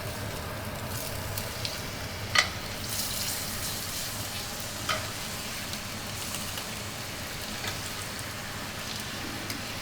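Spicy honey pork chops sizzle steadily in a pan, a soft continuous hiss with a few brief pops and crackles, heard alone without talk.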